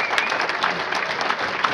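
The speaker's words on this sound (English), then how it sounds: "A big round of applause," Crowd applauding boxers after a close amateur bout, a short burst of dense clapping with scattered sharp claps standing out, brief and fairly steady.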